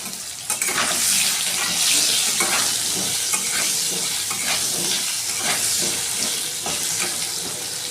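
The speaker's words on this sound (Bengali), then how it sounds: "আমি আলুগুলো জাস্ট ভেজে নেব।" Potatoes frying in a little oil in a wok, a loud, dense continuous sizzle with repeated soft stirring scrapes throughout.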